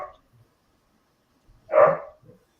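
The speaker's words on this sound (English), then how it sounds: "We got a mean dog barking away" Dog giving a single sharp bark, close and loud, with a few faint soft sounds around it in an otherwise quiet room.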